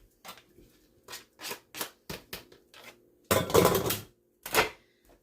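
Diced tomato chunks and cheese cubes are tipped into a crockpot, producing a series of separate clattering knocks and scrapes, with a louder burst of rattling and a final thud near the end.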